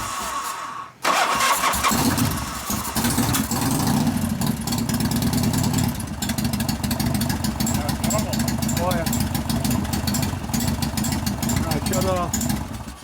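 A 1988 Harley FXR after lifter repair cranks and fires up about a second in, then settles into a loud, close, lumpy idle with steady pulsing; people talk over the running engine.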